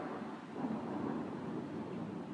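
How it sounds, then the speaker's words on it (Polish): Thunder rolls through a thunderstorm, heard from a terrace in foggy weather, as a low, sustained rumble with steady rain-like hiss, moderately faint and without voices. "Siedzimy teraz na tarasie w trakcie burzy"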